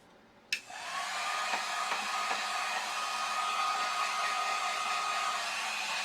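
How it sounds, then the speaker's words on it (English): A hair dryer clicks on and runs steadily over freshly stenciled paint, a loud, continuous close-up whoosh with a faint whine that holds for several seconds without talk. "Let me dry this first."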